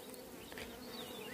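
Honeybees of a hybrid strain buzz close by at a swarm hive inspection, a steady continuous drone with no pauses, fairly near, and nobody talking over it.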